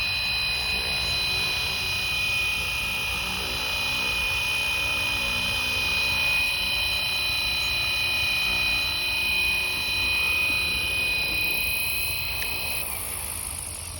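An RC helicopter, a Flywing FW450L, sets down in ADI mode with a steady high-pitched rotor and motor whine. The whine holds level and close throughout, then shifts in pitch near the end. No voices are heard.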